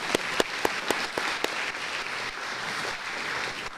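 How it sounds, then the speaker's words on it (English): Audience applause during a mayor's inaugural speech welcoming a community volunteer, opening with several loud, distinct claps close by before settling into a softer, steady patter from the room. "you can applaud here too if you want"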